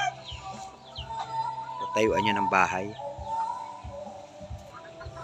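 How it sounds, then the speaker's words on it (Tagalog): Native and Texas fighting cocks cluck and call around a rural house lot, short clucks scattered through the scene while someone speaks briefly in the middle. "So, maraming manok ko. May mga panabong pala to. Mga native, mga Texas."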